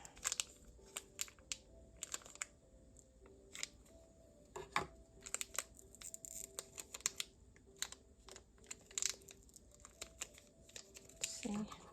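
Paper packaging being snipped and trimmed with scissors for journal collage pieces, a run of short crisp cuts and crinkles close by, with quiet talk now and then.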